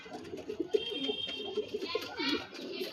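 Soft, repeated cooing from several ice quality pigeons, part of a Kolkata loft's Gola line stock, murmurs on and off under faint background voices and rustling.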